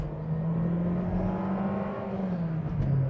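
A VW T-Roc 1.5 TSI turbo petrol engine pulls hard while overtaking trucks on a highway, a steady droning hum rising slightly in pitch as it accelerates, with road and tyre noise underneath.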